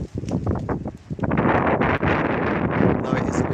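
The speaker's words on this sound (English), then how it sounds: "Though it is a bit windy." Gusts of wind buffet the microphone, growing into a loud continuous rumble after a brief stretch of talking.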